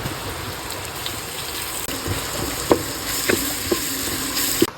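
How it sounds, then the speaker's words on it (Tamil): Onions and ginger garlic paste frying for mutton biryani, a steady close sizzle with occasional stirring scrapes and taps, while heavy rain hisses continuously in the background. "வெங்காயம் வதக்கிட்டு இருக்கேன்."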